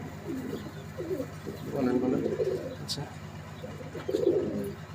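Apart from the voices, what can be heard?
imported Pakistani Teddy pigeons cooing in loft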